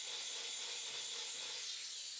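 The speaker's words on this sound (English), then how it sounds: "Steam mops use hot steam to penetrate the pores of surfaces and effectively remove dirt, grease, and bacteria." A steam mop releases hot steam as a soft, even hiss that holds steady for a couple of seconds, faint and close.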